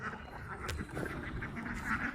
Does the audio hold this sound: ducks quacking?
yes